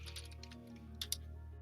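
Quick, light clicks from typing on a computer keyboard, faint and close, with a couple of sharper key strikes near the end.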